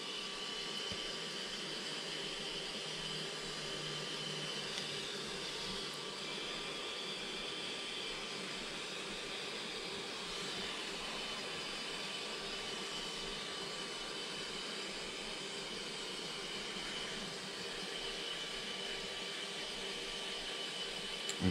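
A heat gun blows hot air onto heat shrink tubing, a steady, loud rushing whir that holds almost unchanged throughout, with no talking.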